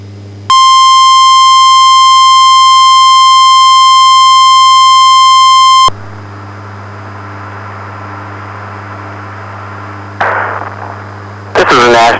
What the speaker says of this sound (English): The signal you just heard was our weekly test of the NOAA Weather Radio Warning Alarm System.